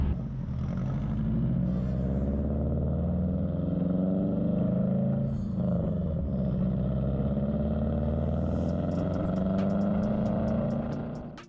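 A tuned 2007 Subaru WRX engine drones loudly and steadily at close range, a deep rumbling exhaust note holding fairly constant with slight rises in revs throughout.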